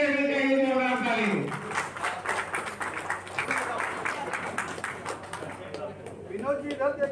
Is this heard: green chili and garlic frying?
no